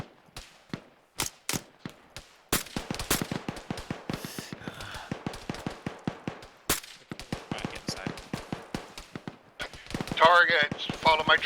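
Gunfire in a military video game: sharp single shots in loose bursts, then rapid sustained automatic fire, loud and close, with a voice over the shooting near the end.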